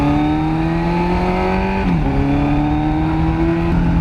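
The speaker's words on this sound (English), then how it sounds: "Sound क्या प्यारा है भाई. योशिमुरा का शॉर्ट पाइप है भाई." A carburetted superbike with a Yoshimura short exhaust pipe revs up through the gears, its loud, close engine note climbing steadily with two quick dips at the gear shifts.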